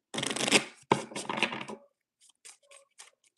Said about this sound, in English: Let's pull your karma cards.